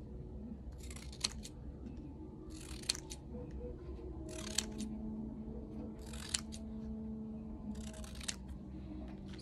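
Scissors cut out a paper image with a series of crisp snips, about six of them spaced a second or two apart, close but soft over a faint background hum.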